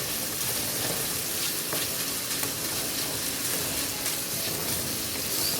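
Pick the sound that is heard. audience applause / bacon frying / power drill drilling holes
bacon frying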